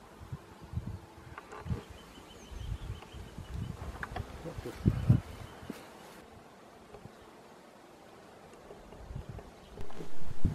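Honeybees buzz and drone around a wooden hive with a green roof in January, a busy, uneven hum with scattered close passes, plus light rustling and brief knocks.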